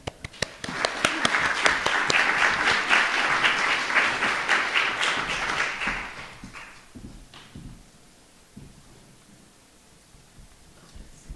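An audience at an art project launch and artist talk gives a warm round of applause welcoming a speaker, steady dense clapping that swells and then tapers off, leaving quiet room noise and faint shuffling.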